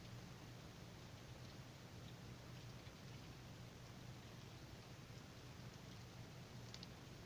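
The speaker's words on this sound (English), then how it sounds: "but it is pouring down rain." Heavy rain pours down outside during a thunderstorm, a steady, faint, uniform hiss that continues unbroken throughout with no voices.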